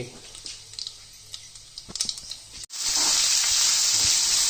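Cloves and cardamom go into hot oil in a pot for vegetable biryani. After a few soft clatters and a brief pause, a loud, close, continuous frying sizzle erupts and holds steady to the end.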